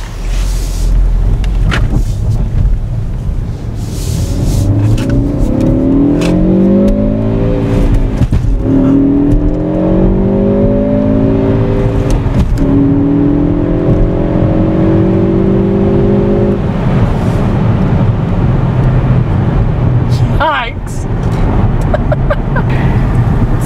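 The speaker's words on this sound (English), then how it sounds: "So we're out on the road now with the Ford Focus ST, and we're going to open it up just a little bit" Interior view of a 2013 Ford Focus ST accelerating on the road, the engine note climbing steadily through repeated gear pulls over a constant loud road and cabin rumble, with no talking.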